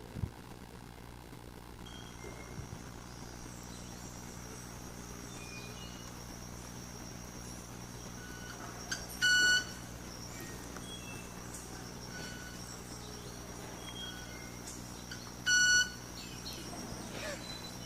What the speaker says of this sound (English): what does a male clubwing mannequin wing song sound like?